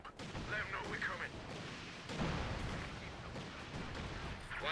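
Artillery barrage in Company of Heroes 2, a 4v4 match: a steady roar of distant shelling and booms runs through the whole stretch, with a heavier thump near the middle and faint voice-like chatter in the mix.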